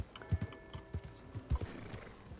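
Horse hooves clip-clop in an uneven run of close, soft thuds with a brief whinny, from the video game Red Dead Redemption 2, quiet and free of talk.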